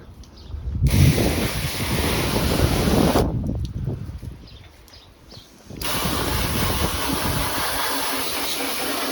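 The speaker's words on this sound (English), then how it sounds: "Spray it off with just some water out of the hose." Water hisses from a hose in two long bursts with a short break between them, rinsing a car's headlights, loud and close, with no voices.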